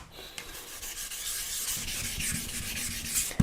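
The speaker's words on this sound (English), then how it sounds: "we need wet sand rider, wet sanding bucket and 800 grit, some hours of time, and then let's do the sanding." Steady rhythmic wet sanding with 800-grit sandpaper on a carbon bicycle frame's clear coat, close and fairly quiet, with a wet, smooth scrubbing quality and no voices.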